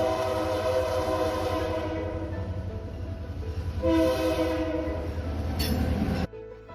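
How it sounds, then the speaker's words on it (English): An eastbound diesel freight train rumbles past a station steadily, its engine droning and the cars clattering along, with a brief horn-like blast near the end before it cuts off. "Here is an eastbound diesel freight going on to the Boonton line"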